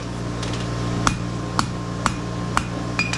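A hammer strikes a forged steel scroll while bending it, giving four or five sharp metallic rings spaced roughly half a second apart over a steady background hum.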